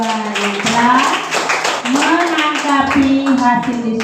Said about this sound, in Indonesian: kita tepuk tangan untuk kelompok 1 dan kelompok 2